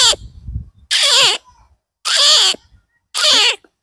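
A man imitates animal and bird calls with his voice, giving three loud, close, wavering cat-like meows in a row, each about half a second long with short silent gaps between them.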